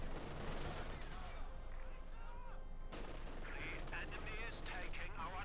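Battle gunfire in the video game Company of Heroes 2, including shots fired from the lower floor of a building. The bursts and crackles sit at moderate distance under a commentator's ongoing talk.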